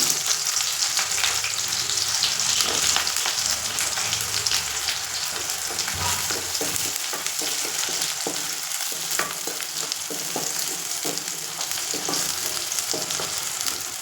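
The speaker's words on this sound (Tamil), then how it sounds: "இதை அப்படி போட்டு அப்படியே நல்லா பொரியுது." Chicken masala fries in a pan with a dense, constant sizzle like light rain, while occasional spoon scrapes and taps mark the stirring. No one speaks.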